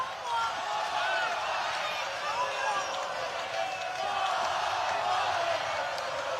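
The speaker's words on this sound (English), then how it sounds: "Crowd chanting as the SEC arena is rocking." Arena crowd at the SEC during a live boxing bout, a dense sustained roar with rising chant-like swells and scattered whoops, loud and continuous, with a commentator talking over it.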